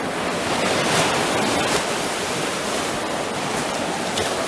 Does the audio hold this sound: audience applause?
no